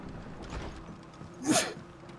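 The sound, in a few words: sneeze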